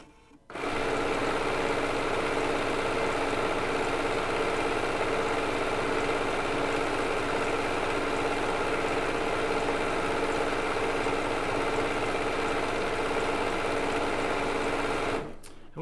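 A Bernina B990 sewing machine runs a decorative serpentine stitch along quilt binding, a steady, close mechanical whir holding evenly for the whole stretch before cutting off at the end.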